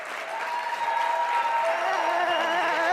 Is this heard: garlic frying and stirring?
no